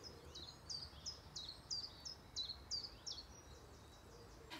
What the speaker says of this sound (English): we can hear the birds singing